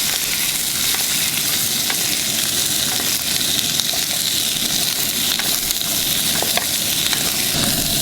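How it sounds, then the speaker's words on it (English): String beans hit hot fat with garlic and ginger on high heat for a quick stir-fry, producing a loud, steady, continuous sizzle throughout. "we're gonna add in the string beans straight into the fat, and garlic and ginger. Saute really fast."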